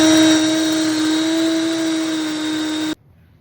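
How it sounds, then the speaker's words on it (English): Electric grain mill grinding hard white wheat berries into flour, a steady loud high whine running continuously for about three seconds before cutting off abruptly into near silence. "First things first, we're gonna mill up some flour. This is hard white wheat."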